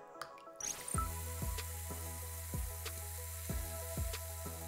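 An effervescent tablet drops into a container of water with a splash and then fizzes, giving a string of bubbly pops and squishy gurgles over a soft hiss, close and fairly quiet.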